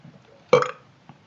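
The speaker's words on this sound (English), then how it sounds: "Burp for us" A single short burp, close and fairly loud, standing alone in a quiet room.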